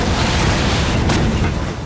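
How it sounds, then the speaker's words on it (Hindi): A bomb explosion during a Taliban attack in Afghanistan, heard as a loud sustained roaring boom with dense rumbling noise and a brief sharper burst partway through, no voices. "धमाके की गूंज दूर दूर तक सुनाई दी।"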